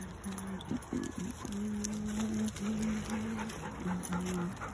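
A dog pants steadily and close by, with faint whimpers, while a person nearby speaks to it in a soft, high voice.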